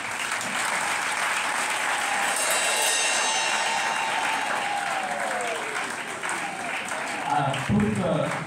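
A congregation applauds warmly at a closing mass for the end of the school year, with steady, full clapping that fills the space, swells slightly, then tapers near the end.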